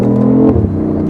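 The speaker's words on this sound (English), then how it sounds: "when you want to have fun in the car, you just put it in the sport mode, use the gas, and then go" A BMW i8 accelerating hard in sport mode, its engine note swelling loud and close in a short surge that rises and then settles into a steady rumble.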